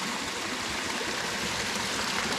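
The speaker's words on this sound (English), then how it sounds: "You can see the water running there. Runs all the way down to a pool down there" Stream water runs steadily down toward a pool at a spring campsite, a dense continuous rushing and gurgling wash at close range with no break and no voices.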